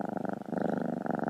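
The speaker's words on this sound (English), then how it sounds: "Man, listen to that purr. It's a loud ass purr." A cat purrs loudly and close up, a fast, steady rumbling pulse with no other sounds around it.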